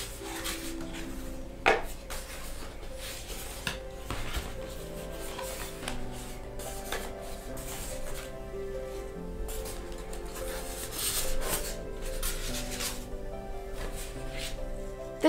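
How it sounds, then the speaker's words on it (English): Packaging for American Girl doll Julie's sound accessories, a tape recorder and microphone set, is handled and opened up close, giving steady rustling, rubbing and scraping with a few sharper crinkles and clicks, no voices. "The first item that I'll be opening up is Julie's sound accessories"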